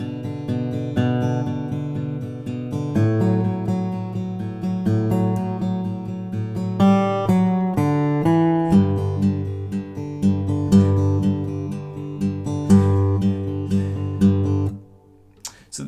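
The Guitar Revolution main theme riff is played on electric guitar, loud and close: repeated rhythmic figures of notes and chords looping steadily, then a sudden stop near the end.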